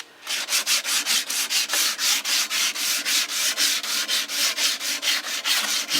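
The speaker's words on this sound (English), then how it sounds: "we got rust on the top here, so I'm using sandpaper to clean off the heaviest stuff" Sandpaper scrubs rust off the top of an old Homelite XL chainsaw in quick back-and-forth strokes, a close, loud rasping that repeats roughly four times a second with no speech.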